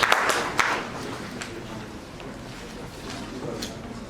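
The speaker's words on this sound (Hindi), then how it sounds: "एक बार जोरदार तालियों से उनका स्वागत है" An audience at a Delhi official-language committee meeting applauds to welcome the office heads; brisk clapping comes at the start and then fades into a low, steady patter with murmuring under it.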